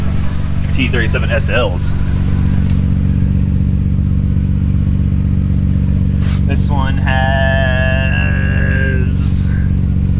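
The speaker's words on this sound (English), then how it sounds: "You can hear the motor sounds really good." A used car for sale in Japan with about 122,000 kilometres idles close by, a steady low engine rumble running throughout, while someone talks over it.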